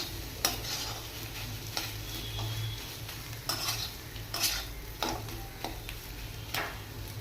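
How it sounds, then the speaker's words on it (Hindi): Potato and onion are stirred together in a pan with a steady soft sizzle and regular spatula scrapes and clicks against the metal, fairly quiet and close. "पियाज और आलू को भलसे मिक्स करने भी।"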